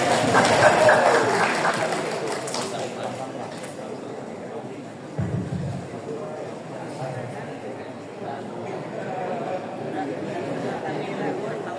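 Audience applause at a formal welcoming event swells loudly at first, then fades into murmuring crowd chatter and voices, with a brief thump midway and scattered claps lingering under the talk.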